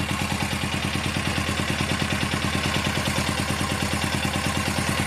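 A Suzuki GS500F EFI motorcycle engine runs on its first start, settling into a steady, even idle with a fast, regular pulsing beat, close up and continuous, with no talking over it.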